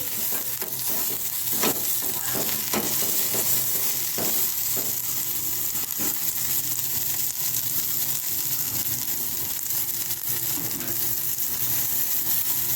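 Garlic pieces fry in hot oil with a constant, close crackling sizzle, punctuated by occasional sharper pops and stirring scrapes.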